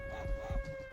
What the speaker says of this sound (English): Wait, I heard a dog.